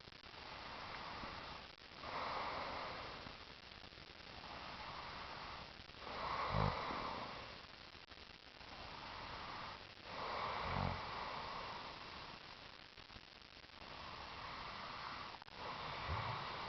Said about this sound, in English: Are you gonna start snoring again?